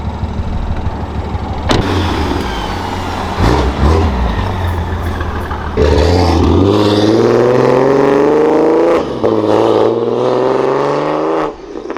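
A single-turbo BMW F80 on fresh tires and 20-inch comp wheels revs and accelerates hard while driving, its engine note climbing through rising gear pulls with brief dips at the shifts, loud and close throughout.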